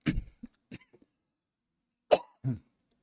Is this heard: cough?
yes